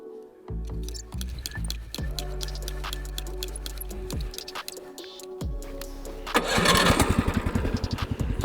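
A Snow Dog motorized ice sled engine cranks in a few short bursts, then catches and fires up loud and close near the end, running with a steady rapid chug.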